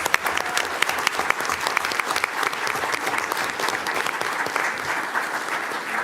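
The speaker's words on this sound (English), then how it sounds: "let's give these students one more round of applause" An audience at a school board meeting applauds for students, steady sustained clapping from a room full of people.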